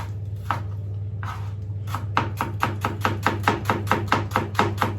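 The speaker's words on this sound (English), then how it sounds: "You slice it nice and thin." Knife slicing peeled onions thinly on a cutting board, a steady run of crisp, close chops speeding into a regular rhythm after a few slower opening cuts, with a constant low hum beneath.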